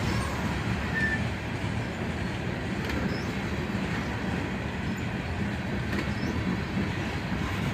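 Slow freight train of old Chicago Northwestern hopper cars rolling past, a steady broadband rumble with faint wheel noise holding level throughout, no voices.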